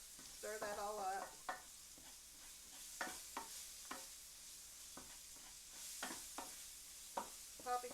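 Caramelized apples with brown sugar and cinnamon being stirred in a pan, a quiet steady sizzle broken by several scraping strokes of the spoon, close and soft with no talking.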